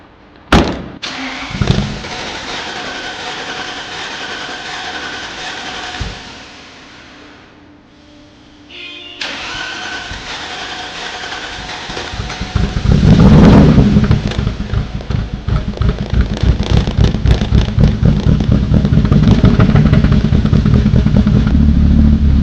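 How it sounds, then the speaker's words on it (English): The engine of a Mercedes W124 E42 AMG is cranked after sitting unused for five years. Clicks and a long whirring crank lead to a catch, then a loud, rough, rhythmic running engine close by. "we'll connect the battery and give the car a first crank run start"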